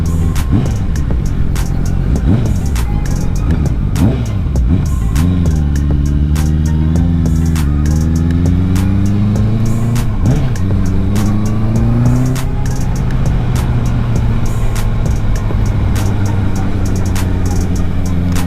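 A Honda CBR650R motorcycle engine revs loudly up close, with repeated throttle blips and rising and falling engine pitch over a steady idle.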